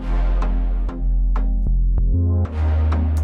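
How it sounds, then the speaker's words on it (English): EDM chord progression joined by a deep, heavy bass line, loud sustained harmony over booming low notes that change with each chord, punctuated by short percussive hits. "And then they add a bass line."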